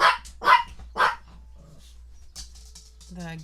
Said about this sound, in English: Something knocked in the hallway and it made the dogs bark